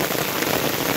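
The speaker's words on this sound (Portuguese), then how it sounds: "Deu uma chuvinha boa." Heavy afternoon rain pours down in Saloá, Pernambuco, a dense, loud, unbroken hiss of drops hitting surfaces close by, with no voices over it.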